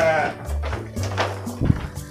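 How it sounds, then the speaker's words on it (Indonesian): A Javanese Randu goat on a farm gives a nasal, wavering bleat up close, followed by softer bleats and a knock, with people talking faintly around it. "ini juga jenis kambing Jawa Randu"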